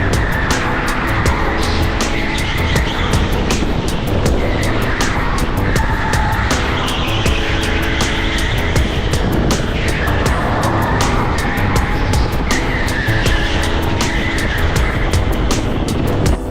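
Go-karts racing around an indoor Teamsport track in Warrington, their engines whining and buzzing steadily and loudly throughout, with no pauses.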